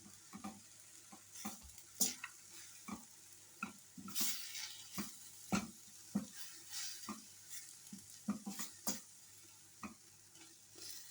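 Tomato paste is stirred and fried in a pan for breakfast cooking, with soft sizzling under a series of sharp spoon-on-pan scrapes and clinks recurring irregularly, close and fairly quiet, with no voices.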